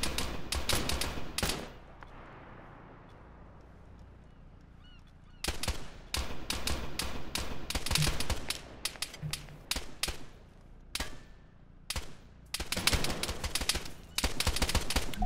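Gunfire in the Arma 3 video game comes in repeated sharp bursts of rapid shots, loud and close, separated by quieter gaps.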